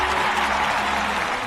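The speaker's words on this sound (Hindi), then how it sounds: "ताली बजाओ ताली।" An audience claps in a brief, steady wash of applause, dense and even, heard alone without talk.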